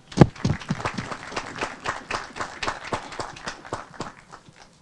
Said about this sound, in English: I want to give a round of applause